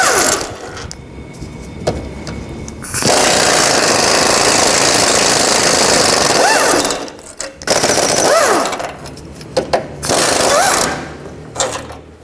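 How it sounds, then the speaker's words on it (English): Impact wrench loosening and removing bolts with a 15mm socket on the car cradle of a 2009-17 Chevy Traverse during a transmission mount job, heard as loud sustained rattling bursts with brief pauses between them, close up. "Now take these bolts out, use a 15mm socket."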